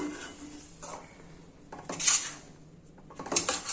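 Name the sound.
stirring dry coconut and cardamom powder in a pan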